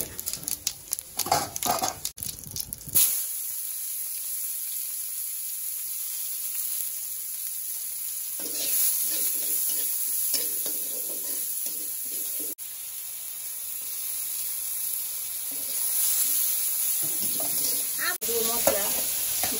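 Cumin seeds and spices hit hot oil in a home kitchen pan during curry cooking, a loud, steady sizzle with stirring and scraping over nearly twenty seconds, with busier clattering bursts at the start.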